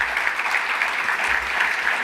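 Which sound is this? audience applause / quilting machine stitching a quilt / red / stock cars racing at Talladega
audience applause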